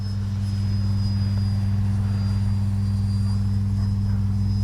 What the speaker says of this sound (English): Very aerobatic little plane